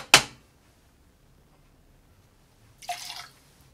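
Juice from a squeezed half orange drips in two short bursts, a sharp splash right at the start and a softer, longer patter near the end, with quiet between them and no talk.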